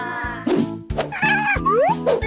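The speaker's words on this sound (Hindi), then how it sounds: "अरे देखो कितनी प्यारी बिल्ली है।" A cartoon cat meows in a few short, sliding, high-pitched calls over a bouncy, tonal animated soundtrack, loud and close.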